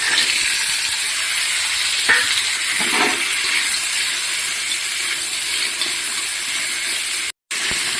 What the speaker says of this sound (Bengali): এখন আমি কাঁকড়াগুলো ভেজে নিব।